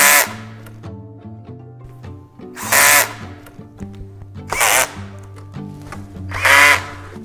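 A power drill drives screws into the lifting columns of a FlexiSpot standing desk, four loud whirring bursts spaced a couple of seconds apart over a steady background of music.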